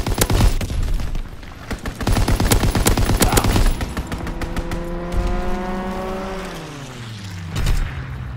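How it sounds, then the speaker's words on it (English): Strafing-run gunfire in a video game: dense, loud machine-gun bursts rattle for about four seconds, then give way to a long falling engine-like whine. "Strafing run inbound."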